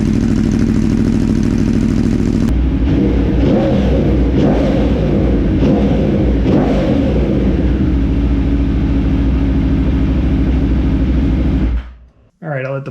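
A 2015 Aprilia Tuono RSV4 motorcycle warms up after an engine swap. Its engine idles loud and close with a steady throb and occasional clattery blips, then cuts off abruptly near the end.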